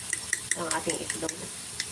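An egg fries in a pan with a steady soft sizzle, broken by sharp clinks of a utensil against the pan at irregular intervals, close by and fairly quiet.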